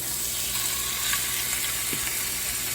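Pork chops sizzle in a hot pan with a steady crackling hiss and occasional faint pops, close and continuous.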